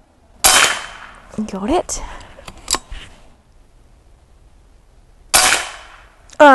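Two sharp shots from an AirForce Texan SS .308 airgun fired at clay targets on a 35-yard range, several seconds apart, each a close crack. A brief voice speaks between them.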